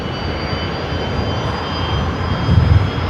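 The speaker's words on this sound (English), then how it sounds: "can you hear those Rolls-Royce Tays on startup?" Rolls-Royce Tay jet engines start up at Brisbane Airport. They give a loud, steady broadband roar with a thin whine, swelling slightly near the end, and no voices.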